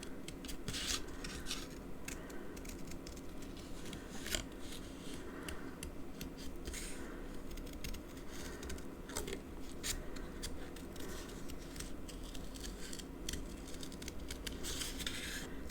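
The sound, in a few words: cutting card with scissors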